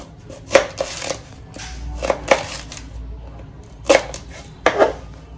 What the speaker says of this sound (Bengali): তারপর এটাকে এরকম ছোট ছোট টুকরো করে নিচ্ছি।